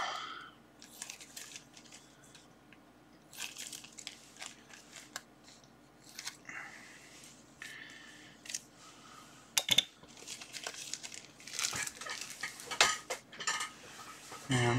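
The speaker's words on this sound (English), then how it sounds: "I'm just going to cut the label off this guy" Scissors snip through a shipping label on an AliExpress package of electronics, making a series of close, crisp cuts and rustling plastic clicks against a quiet room.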